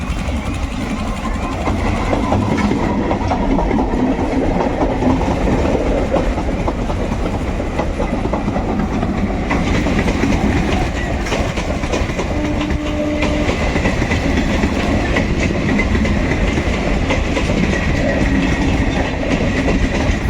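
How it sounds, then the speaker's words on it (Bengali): The Ranaghat local passenger train pulls into Murshidabad railway station with a continuous heavy rumble and rhythmic clickety-clack of wheels on rail joints, loud and close for the full twenty seconds, with occasional squeals. "দেখতে পাচ্ছেন রানাঘাট লোকাল ঢুকছে এই মুহূর্তে মুর্শিদাবাদ রেল স্টেশনের পথে"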